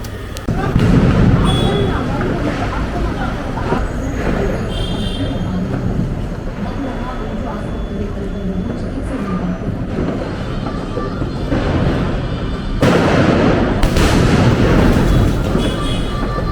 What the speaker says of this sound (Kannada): ಸೊ ಬನ್ನಿ ಬೇಗ ಪಟಾಕಿ ಹೊಡೆಯೋಣ.